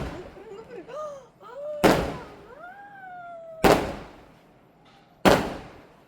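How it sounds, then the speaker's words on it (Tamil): Three sharp firecracker bangs burst at a village festival, each loud and close with a short decay, between stretches of crying and high voices. "அதுக்கப்புறம் இந்த வெடிலாம் போட்டுட்டு இருந்தாங்க."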